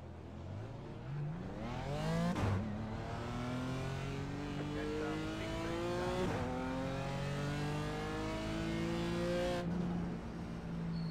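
A BMW race car engine in a racing video game revs up through the gears in a steady, loud whine, with shift breaks marked by sharp dips and re-climbing pitch.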